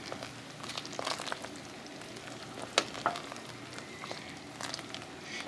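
A Louisiana dish seasoned with cayenne simmers in a pot, giving a soft, steady bubbling sizzle with a few faint clicks and taps over the quiet background.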